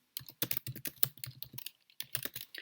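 Someone types a question on a computer keyboard in a quick, close run of key clicks. A short pause falls near the end before a final burst of keystrokes.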